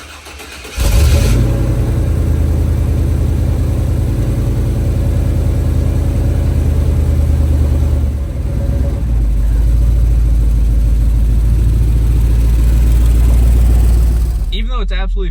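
A lifted OBS Ford pickup truck engine starts and settles into a loud, steady warm-up idle heard from close by, with a slight dip midway and brief talk over it.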